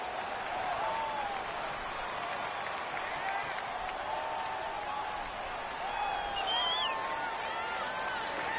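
A constant roar from a stadium crowd in an American football video game fills the whole stretch, steady and dense, with faint whistling tones rising above the din.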